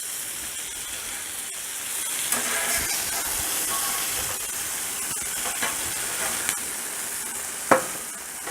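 Chicken sizzles on a Blackstone griddle with a bright continuous hiss, overlaid by occasional spatula scrapes and a sharp clack near the end.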